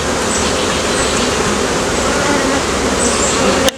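Honey bees swarm thickly at a strong single-deep brood chamber hive, bearding across the front and crowding the supers; a dense, steady close-up buzz holds throughout before cutting off abruptly at the end.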